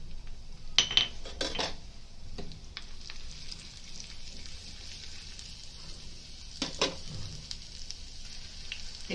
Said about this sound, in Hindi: अभी लहसुन डालेंगे इसके अंदर।